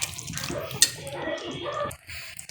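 Hot water poured into a pot of beef curry, a splashing, gurgling pour running steadily for a couple of seconds with a brief clink near the start, close by.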